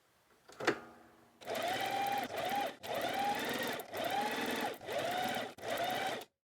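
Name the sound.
sewing machine making a zigzag stitch along fabric edges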